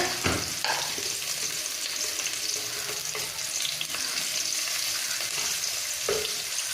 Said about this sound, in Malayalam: വെളിച്ചെണ്ണ ചൂടാകുമ്പോഴേക്കും നമുക്ക് അതിലേക്ക് അരിഞ്ഞു വെച്ചിരിക്കുന്ന ചെറിയ ഉള്ളി ഇട്ട് കൊടുക്കാം. അതൊന്നിങ്ങനെ വഴറ്റാം.